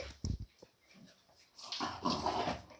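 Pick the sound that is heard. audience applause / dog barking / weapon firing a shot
dog barking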